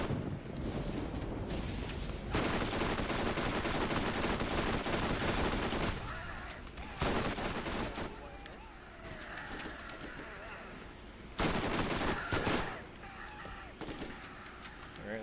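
SMG gunfire from Borderlands Remastered comes in long, dense bursts broken by short pauses, with quieter stretches of game ambience between volleys.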